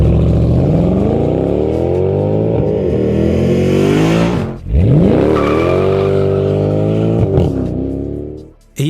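A Mercedes SL63 AMG with the M156 V8 engine roars loudly as it accelerates hard through the gears, with a sharp drop and rise in pitch at each shift and a brief tire squeal.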